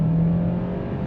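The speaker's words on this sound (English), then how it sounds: "as I drive through here, I can accelerate, get full RPM" A 2025 Hyundai Santa Fe Hybrid engine revs steadily toward full RPM, a close, continuous droning hum with a low tonal whine that holds for about a second.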